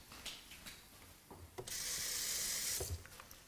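Water running from a kitchen tap while cooking curry, a soft steady gush of about a second and a half, faint and close, framed by small clicks and handling noises.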